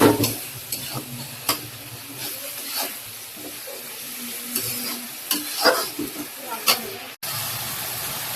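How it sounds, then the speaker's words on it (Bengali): Chopped carrot and potato are stirred into tomato in a hot pan, giving a steady sizzle with intermittent scraping and stirring clicks close by. "এদিকটাতে যে টমেটো আছে, এটার মধ্যে যে গাজর আর আলু কুচি দিয়ে দিলাম"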